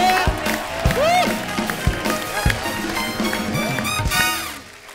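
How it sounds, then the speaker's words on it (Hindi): A studio audience applauds and cheers, with steady, loud, dense clapping mixed with whoops and voices. "एक बार जोरदार तालियां हो जाए"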